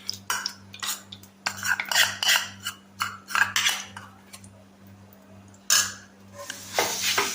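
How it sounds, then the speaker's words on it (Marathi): Grated beetroot with ghee stirred and sautéed in a pan over medium heat, giving repeated scraping and clinking spoon strokes in an irregular rhythm, close and fairly clear, with a steady low hum underneath. "मीडियम गॅसवर छान व्यवस्थित परतून घ्यायचं।"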